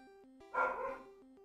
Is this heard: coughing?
no